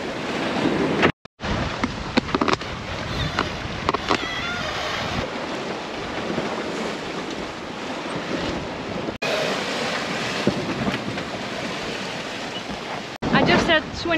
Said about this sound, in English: I just had 27 knots blowing over the boat,